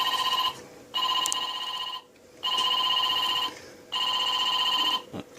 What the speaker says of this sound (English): I guess he's getting a phone call